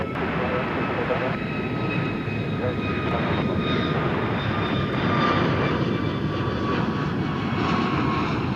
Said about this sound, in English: That was flight 2430 to San Francisco in Airbus A321